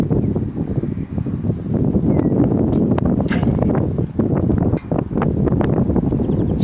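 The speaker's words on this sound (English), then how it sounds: "It's a pretty stiff wind there" Stiff wind outdoors at an archery range, buffeting the microphone in loud, gusty bursts of low rumble that are continuous with a few brief dips.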